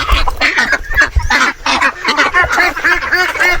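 Peking ducks and native ducks feeding at a small provincial farm, a dense chorus of overlapping quacks and honks close by, continuous and loud throughout with low thumps underneath.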